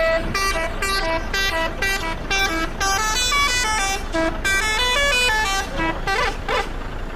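First horn of a Mercedes-Benz OH1626 bus in Bus Simulator Indonesia: a loud, close, rapid melodic sequence of bright multi-tone horn blasts playing continuously over engine rumble, without speech.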